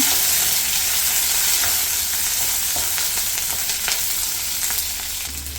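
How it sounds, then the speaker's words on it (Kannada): Onion and green chilli frying in a pan for a village-style veg pulao, giving a steady, close sizzle with occasional stirring scrapes throughout, loud and continuous, no talking. "ಈರುಳ್ಳಿ ಮತ್ತು ಹಸಿಮೆಣಸಿನಕಾಯಿ ಕೂಡ ಹಾಕ್ಕೊಳ್ತಾ ಇದ್ದೀನಿ. ಸ್ವಲ್ಪ ಫ್ರೈ ಮಾಡ್ಕೊಳ್ಳೋಣ."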